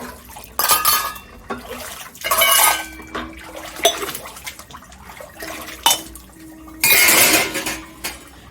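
Utensils are washed in a home kitchen, with pots, plates and cutlery clattering and clinking in irregular bursts amid splashing water, close and fairly loud, with no talking.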